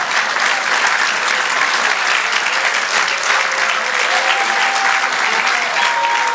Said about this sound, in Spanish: Así que dale un verdadero aplauso a nuestro Dios.